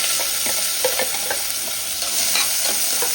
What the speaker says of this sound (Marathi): त्यानंतर आपण याच्यामध्ये दोन मिडियम साईजचे कांदे बारीक कट करून घेतले ते टाकायचे